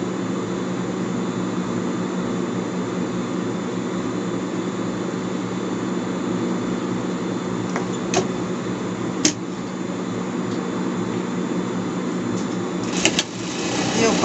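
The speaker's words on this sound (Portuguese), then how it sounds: "Faço uma costura de segurança, tá?" A sewing machine stitching the collar of a pet shirt, a steady, continuous mechanical hum and whir running without a break, close and fairly loud, with a few faint clicks near the end and no talking.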